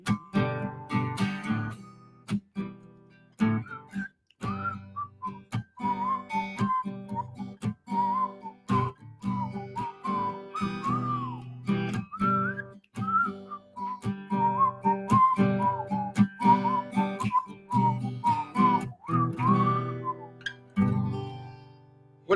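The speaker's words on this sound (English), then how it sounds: "it's got that little whistling part in it that I always like doing" A person whistles a bouncy melody, steady and close, with a soft rhythmic backing underneath throughout.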